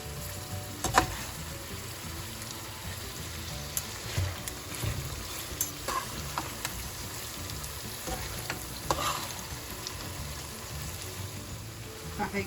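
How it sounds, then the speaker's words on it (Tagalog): Fried pigar-pigar draining in a metal strainer, with a steady crackling sizzle of excess oil and occasional scraping and tapping knocks, fairly close and continuous throughout. "So gagamit lang tayo ng strainer para ma-strain natin yung excess oil."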